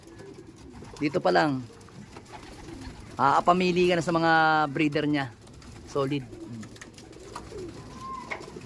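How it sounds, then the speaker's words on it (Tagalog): Pigeons in a breeder's loft at Nasugbu coo in low, throaty rolls, with one long, loud coo in the middle and softer ones before and after, while someone talks nearby. "Pero maganda yung ibon, mga abel."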